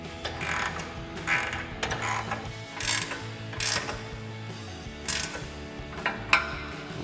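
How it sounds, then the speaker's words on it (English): A 17mm ratcheting wrench clicks in quick repeated bursts while tightening the pivot bolts on a steel front bumper for a Toyota Tacoma, close up and fairly quiet. "we're going to tighten down our pivot bolts with our 17mm wrench and 17mm ratcheting wrench"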